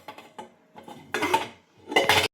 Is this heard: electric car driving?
no